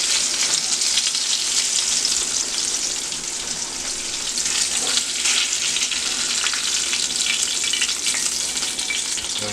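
Beef liver fries in a pan with a loud, dense, continuous sizzle and crackle, close by, holding steady for several seconds with slight swells as pieces are moved.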